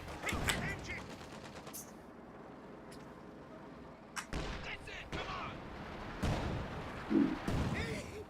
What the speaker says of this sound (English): nice hit there from the Pack Howie, which is now at Vet 2